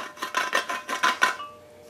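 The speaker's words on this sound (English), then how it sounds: "And just put it in there and twist it and get some burrs right off." A hand deburring tool twists against the cut metal of a fabricated flower basket for an antique bicycle, giving about seven quick, close metallic scrapes in a steady rhythm before falling quiet.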